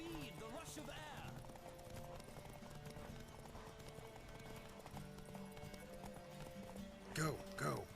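Horse galloping in the Witcher 3 video game, a steady run of hoofbeats over a continuous game soundscape, with a voice speaking over it and a couple of sharper bursts near the end.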